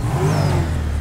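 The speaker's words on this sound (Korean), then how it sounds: "제가 엔진 소리 한번 들어볼게요" A Dundreary Regina car engine revs loudly and close by, a short sustained throaty roar with a rising whine, heard alone.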